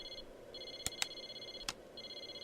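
In the Persona 4 Arena video game, a telephone rings with steady electronic tone bursts repeating in a regular pattern, broken by a few sharp clicks, moderately loud with no talking.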